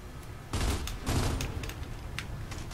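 Bursts of gunfire in the Gears of War 3 video game, two heavy rattling volleys close together followed by scattered fainter shots against a murky game backdrop.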